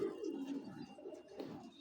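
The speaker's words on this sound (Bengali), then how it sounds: "কবুতরটা প্রচুর ছটফট করতেছে" A racing pigeon, an imported male, coos in low repeated murmurs close by, with restless rustling and movement around it throughout.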